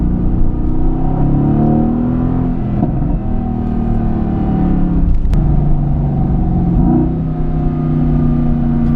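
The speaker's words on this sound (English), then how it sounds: "We flick it into race mode, the revs on this car just become pretty amazing." A Mercedes-AMG GT S in race mode revs and accelerates hard from inside the cabin, its engine note climbing and dropping through several gear changes with a sharp crack midway, loud and close.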